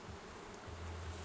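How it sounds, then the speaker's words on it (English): Honeybees at an opened hive during a December inspection buzz softly nearby, a low continuous drone with one bee's hum swelling louder and closer partway through, with no talking. "just move out of the way, you silly bee"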